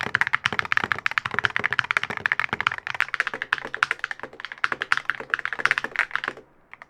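Keystrokes rattle on a Keychron K16 keyboard with ceramic keycaps and a ceramic case, a close, quick, steady run of crisp taps and thocks heard alone, then stopping near the end.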